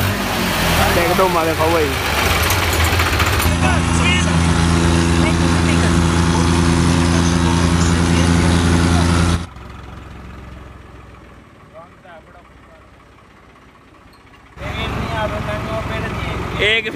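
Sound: New Holland 3630 tractor engine revving

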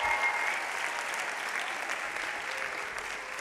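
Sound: audience applause at commencement

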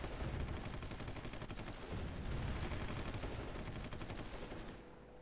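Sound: artillery bombardment in the video game Supreme Ruler Ultimate

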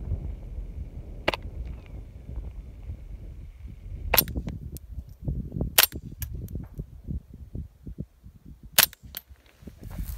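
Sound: Ruger 10/22 rifle shots with Pillbox suppressor, subsonic ammo

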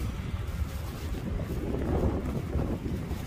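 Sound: wind

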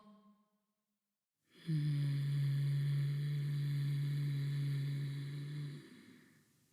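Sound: person exhaling audibly

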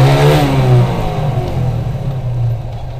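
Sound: motorcycle engine revving

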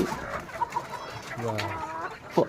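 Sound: chickens clucking

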